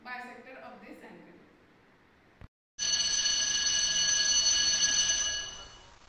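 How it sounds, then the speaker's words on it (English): A bell rings with a loud, sustained electric clanging tone that starts abruptly after a brief silence and holds steady for several seconds, following a stretch of speech. "Okay, bell rang."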